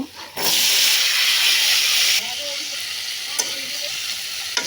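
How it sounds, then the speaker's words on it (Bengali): Boiled chickpeas dropped into hot oil with turmeric burst into a loud, close hissing sizzle that holds for about two seconds, then settles into a quieter steady fry with a few stirring knocks. "নাড়াচাড়া করে ভালো করে বেজে নিব"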